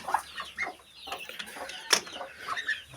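Newly hatched Muscovy ducklings peep in thin, high chirps scattered over the scene, faint and close, mixed with soft clucking farmyard fowl noises and a quiet background.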